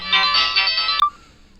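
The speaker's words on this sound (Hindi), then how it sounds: "हाँ घंटी जा रही है, घंटी जा रही है।" A phone ringtone plays a bright electronic melody for about a second, then cuts off abruptly.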